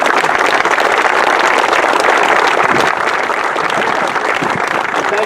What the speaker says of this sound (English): I would just like you to give them a round of applause.